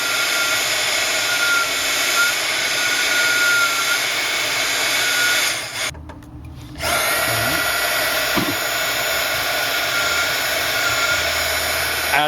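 A heat gun blows steadily and loudly, warming a Samsung S5 phone screen to loosen the glue, with its whooshing roar cutting out briefly partway through before resuming, while faint handling noises sit underneath.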